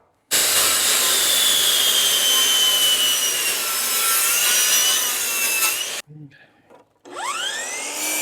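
Wood is sawn at an Amish sawmill, a loud steady rasping cut for about six seconds, followed by brief clatter and a rising whine as the saw spins down.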